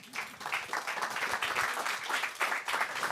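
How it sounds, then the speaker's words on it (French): An audience at a French lecture on structural mechanics and the environmental transition applauds, a dense, steady wash of many hands clapping at moderate loudness throughout the short stretch. "Applaudissements, mesdames, messieurs."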